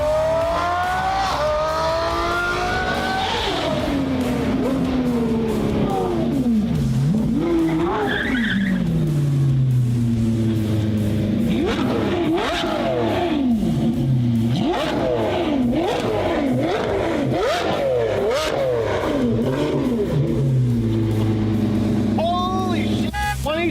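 A 2024 Lamborghini SVJ engine revving hard with rising and falling sweeps, tires skidding, loud and continuous with excited voices talking over it.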